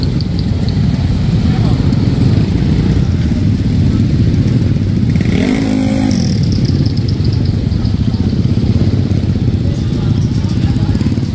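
Motorcycle engines rev and idle at a Street GP Philippines meetup in Gerona, Tarlac. The rumble is loud and continuous, with one bike passing close near the middle amid crowd noise and talk.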